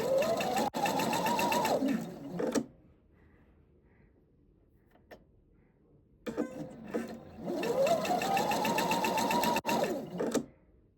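Sewing machine stitching fabric for a kangaroo pocket, running in two loud, steady bursts that ramp up in speed, separated by a quiet pause with faint handling noises.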